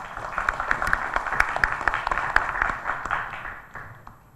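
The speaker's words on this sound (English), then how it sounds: "Please join me in welcoming Dr. Yep Banha with a big round of applause." Audience applause welcoming a guest speaker at an academic forum, a dense wash of many hands clapping that holds steady and then fades out over several seconds, with no talk over it.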